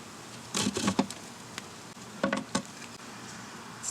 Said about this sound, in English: Now they expect a foreigner in their hive.